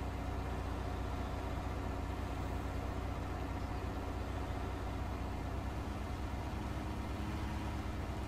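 Claas Dominator 98 VX combine engine in Farming Simulator 19, a steady, loud, droning low rumble held without change throughout, no voices.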